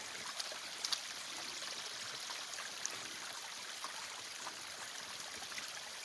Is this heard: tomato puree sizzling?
no